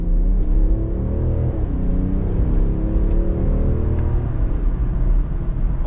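Inside an Alpina XD4 G02 with a quad-turbo diesel while accelerating: a loud, steady low engine drone whose tone climbs through the gears, with no talking over it.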